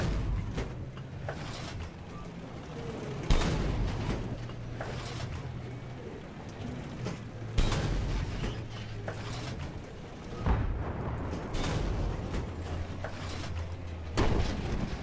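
Rocket explosions boom repeatedly in Battlefield 3 combat, heavy blasts every few seconds over a constant rumbling engine drone, loud and near.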